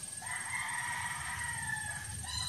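A backyard rooster crows one long drawn-out cock-a-doodle-doo, clear and fairly close over faint outdoor background noise, with no talking.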